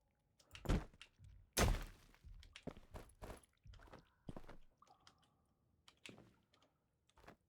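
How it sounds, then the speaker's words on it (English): Heavy thumps from an unseen creature walking nearby in the game Colony 37 land in an irregular series of loud, close impacts. Faint clicks and a brief tonal hum sit between them, and no one speaks. "all of a sudden hear thump, thump, thump, thump as something is walking somewhere nearby"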